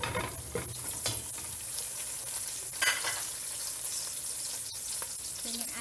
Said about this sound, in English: Simmer lang natin ito siya hanggang sa mag-half cook na yung ating mais.